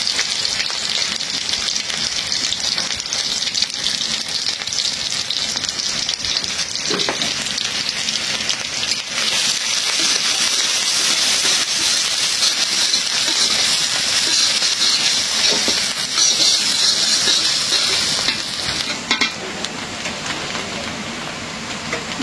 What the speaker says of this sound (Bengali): তেল গরম হয়ে গেছে, দিয়ে দিলাম রসুন, পেঁয়াজ,